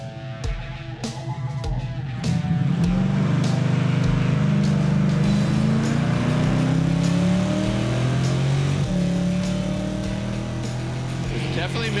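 A Chevrolet Nova hot rod engine roars during a drag run. After a short idle it swells into a loud sustained rev whose pitch climbs and shifts through the run, with a voice faintly underneath.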